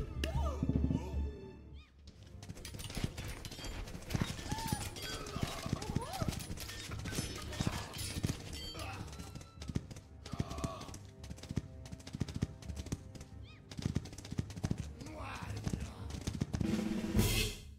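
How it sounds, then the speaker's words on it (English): Hooves clip-clop steadily as a horse is ridden in a video game, with occasional neighs mixed into a busy, loud game soundtrack while a person talks over it. "Riding on a horse."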